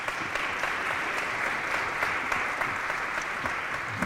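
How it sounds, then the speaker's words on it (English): Applause from the audience at an evening candidate forum for the candidates: moderate, even clapping that continues steadily throughout with individual claps standing out. "Please give them a round of applause."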